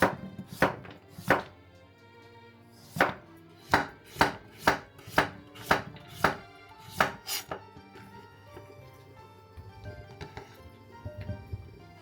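A knife chops turnip into 3–5 mm slices on a cutting board, a series of crisp, close thunks in uneven bursts with pauses between, no voices.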